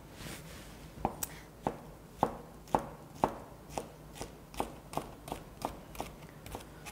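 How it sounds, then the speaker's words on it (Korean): A knife chops vegetables into strips on a cutting board, about a dozen crisp, evenly spaced knocks in a quick rhythm, close and fairly quiet. "이렇게 안쪽에서부터 칼질을 한다"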